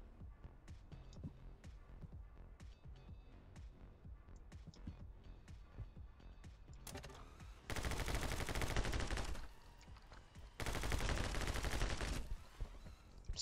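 Gunfire in the action game My Friend Pedro, with rapid popping shots under game music that give way to two long, loud, dense bursts of continuous firing.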